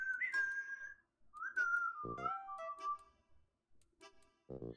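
A person whistles a short wavering tune of sliding notes, with a couple of low knocks between phrases and quiet gaps.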